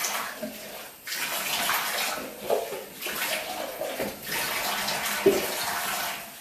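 Running water rinses a bathtub after cleaning with baking soda and vinegar, a steady close rush of pouring and splashing broken by a few brief pauses.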